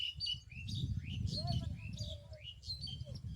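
Small birds chirping and tweeting in a maize field, thin rising calls repeating over a steady low rumble of wind or handling noise, fairly faint and outdoors.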